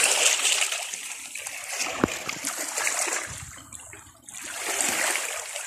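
Water splashes and trickles along a rocky shore as a large octopus caught among the rocks is released into the water, with one sharp splash and softer sloshing around it.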